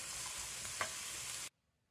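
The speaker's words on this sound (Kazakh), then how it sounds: "Жақсылап араластырып, пиязымыз қызарып, жұмсарғанша қуыратын боламыз" Onions fry in hot oil in a pan while being stirred, making a dense close sizzle with a brief scrape partway through before the sound cuts off abruptly into near silence.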